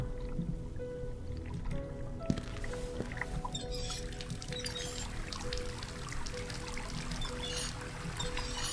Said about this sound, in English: Oh, the faucet works. The water actually works up here.